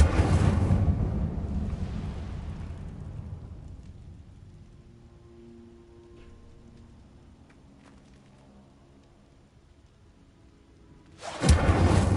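An Incendio fire spell is cast in Hogwarts Legacy, opening with a loud, deep whooshing burst that slowly fades into a quiet ambient tail, then another sudden loud burst near the end.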